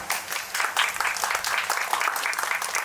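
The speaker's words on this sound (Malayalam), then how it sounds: "അപ്പോൾ അവന് വേണ്ടി ഒരു പ്രത്യേക ക്ലാപ്പ് വേണം" Audience applause for a child at a family gathering, a dense, steady wash of many hands clapping at once, sustained and fairly close throughout, with no clear voices above it.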